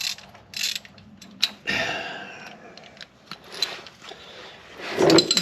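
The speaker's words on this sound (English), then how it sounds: "get it on there, and it tightens as you go. So kind of break it loose." A band-style oil filter removal tool grips and works loose the oil filter on a Subaru STI, giving close, uneven ratcheting clicks, creaks and metallic scraping in short bursts.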